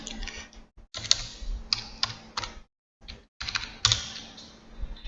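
Someone types an IP address on a computer keyboard, tapping in quick bursts of clicks with short pauses between groups and one louder Enter-like strike, close and clear without talk.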